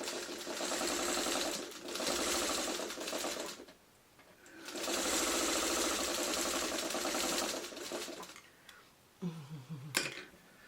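A sewing machine stitches a quilt block in fast, steady runs of close mechanical whirring, stopping and starting between seams, with faint handling and a brief snip near the end.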